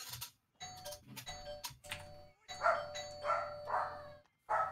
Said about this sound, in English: Someone's banging the doorbell a couple times